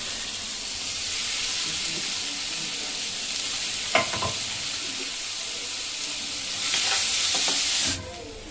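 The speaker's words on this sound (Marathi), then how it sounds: "हे टाकून झालं त्यानंतर जरा कांदा परत करायला." Onion frying in a pan with mustard seeds hisses steadily up close, broken by a few scraping stirs and spatula knocks midway and later, before the sizzle cuts off near the end.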